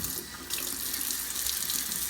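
A kitchen tap runs in a steady, close hiss of water while etched glass is rinsed under it, a continuous broadband stream with no voices.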